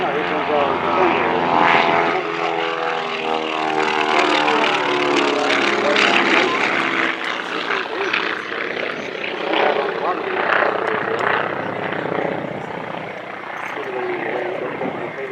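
A B-25 bomber propeller aircraft drones loudly overhead during a WW2 weekend flyover parade, its engine roar steady and throbbing throughout, with a voice talking faintly beneath it.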